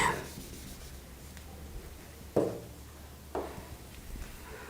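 Scratchy pen strokes on a board or paper during an ethics class lecture, quiet and sparse, with a few brief louder scrapes over a low background hum.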